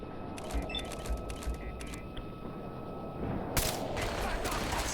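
Gunfire in the video game Fallout 4, a rapid series of sharp shots and bursts over constant background rumble, growing denser and louder toward the end.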